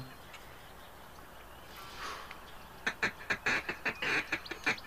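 Duck feed calls from a Duck Dynasty rhythm video game: a quick series of rhythmic quacking calls, about a dozen short bursts in the second half, fairly clear over low background noise.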